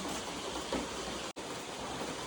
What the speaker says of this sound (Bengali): কি জোরে বৃষ্টি চলে এলো মারাত্মক বৃষ্টি এসছে